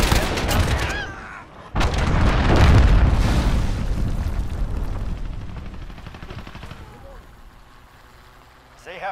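Missile strike in the video game Modern Warfare, with heavy booming blasts and rumbling debris rolling on for several seconds, loud and close, over game voice chatter and fading into a long tail.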